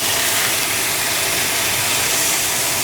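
A ribeye steak searing in a hot pan gives a steady, loud, broadband sizzling hiss that holds at the same level throughout with no talking.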